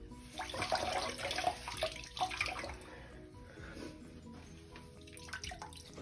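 Water splashes and trickles in uneven bursts over the first few seconds as a cloth is wrung out into a toilet bowl, then fades to faint drips and quiet handling noises.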